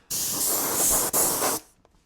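Aluminum spray paint hisses from an aerosol can onto a Kyosho Beetle RC car body in one loud, close burst of about a second and a half, with a tiny pause near the middle, then stops.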